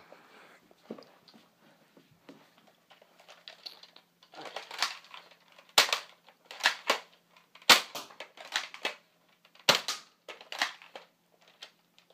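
A toy Nerf blaster is slam fired in a quick series of sharp, close snapping shots, several loud cracks spaced about a second apart with softer mechanical clicks and rattles between them.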